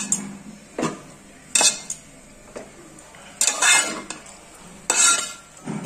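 A spoon scraping and clinking against a pan while ugganiu, a Nandyal-style puffed rice dish, is mixed and warmed, in about five sharp, separate bursts with quiet gaps between them, close and fairly loud.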